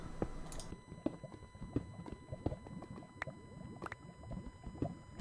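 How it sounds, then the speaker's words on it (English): Underground liquid bubbles in the Minecraft video game with soft, faint gurgling pops repeating at a steady, irregular pace beneath quiet game ambience. "I can hear it kind of bubbling away"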